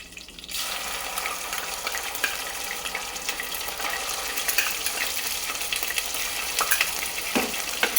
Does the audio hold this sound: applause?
no